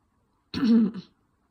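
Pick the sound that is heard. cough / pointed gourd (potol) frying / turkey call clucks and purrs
cough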